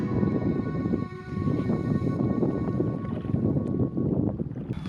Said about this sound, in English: You gotta paddle through that.